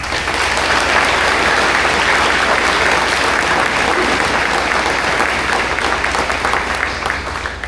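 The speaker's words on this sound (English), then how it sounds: "please join me in a round of applause for our guest of honor, Cadence Perry." A room of guests at a Marine Corps JROTC birthday ball gives the guest of honor a loud, sustained round of applause, dense clapping steady throughout and slowly tapering at the end.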